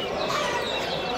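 A small Serama rooster at a Bursa bird market clucks continuously at close range over busy market hubbub, with faint voices in the background.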